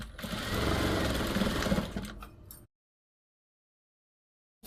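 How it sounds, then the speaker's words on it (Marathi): Sewing machine running steadily at close range while stitching tucks on a blouse, a continuous fast mechanical whir lasting about two and a half seconds before it stops abruptly into silence. "आता मी इथं हा डायरेक्ट उचलला आहे कपडा आणि या पद्धतीने हा टक्स मारून घेते"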